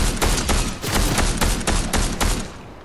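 Loud, close rapid gunfire in the Fortnite video game comes in repeated fast bursts of sharp shots with brief gaps between volleys, then trails off at the end.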